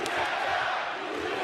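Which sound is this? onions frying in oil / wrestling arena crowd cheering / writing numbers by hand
wrestling arena crowd cheering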